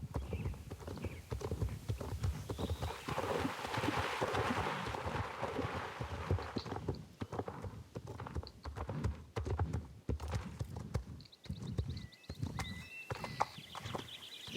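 Horses clop along in a steady, overlapping rhythm of hoofbeats in a video game, wading through shallow water near stables, with some game-like ambient sound and brief whinnies in the background.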